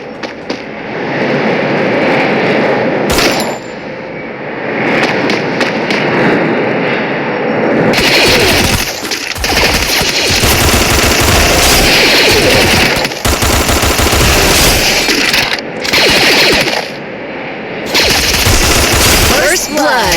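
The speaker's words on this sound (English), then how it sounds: "Keep shooting to destroy them with your teammates." Rapid automatic gunfire in PUBG Mobile, a loud sustained battle with bursts of machine-gun fire and dense shooting that pauses briefly, layered with game sounds and a faint announcer voice.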